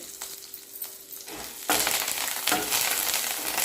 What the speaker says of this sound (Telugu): ఇప్పుడు ఇందులో కరివేపాకు వేసుకొని వేయించుకోవాలి